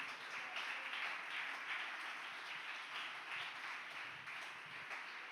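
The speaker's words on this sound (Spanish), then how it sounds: "Fuerte ese aplauso al Señor." A church congregation applauds during a sermon, a steady, fairly faint roll of many hands clapping that holds evenly throughout without voices on top.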